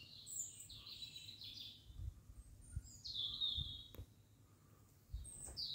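Several birds chirp and trill faintly in the open air of the Périgord countryside near Domme, France, short bright calls scattered over a quiet low rumble of background ambience.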